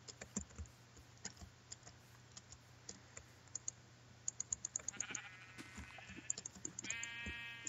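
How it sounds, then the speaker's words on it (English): Several sheep bleats from the video game Hexxit, a Minecraft modpack, near the end, wavering and moderately loud over a steady run of keyboard typing and mouse clicks. "there's one more sheep. The final sheep."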